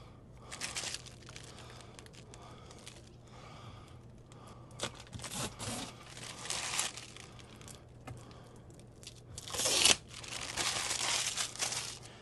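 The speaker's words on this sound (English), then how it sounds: "I am going to peel off the plastic" Protective plastic film is peeled off a Bambu Lab AMS unit, giving intermittent crinkling and tearing rustles at close range, with a louder crackling burst near the end.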